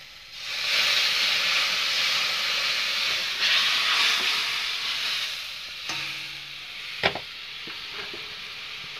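Water hits fried masala in a hot pan with a loud, close burst of steamy hissing and sizzling that slowly eases, followed by a few light clinks and scrapes of a utensil.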